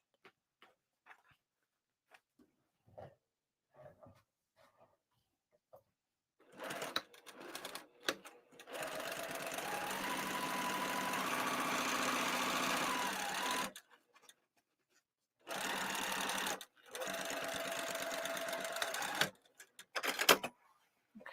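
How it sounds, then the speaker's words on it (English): A sewing machine stitches a seam on a fabric bag, running close and steady in two long bursts of several seconds each, with a pause between them and soft handling clicks around them. "On my sewing machine, you'll hear me mention, I use the outer edge as my 1/4 of an inch."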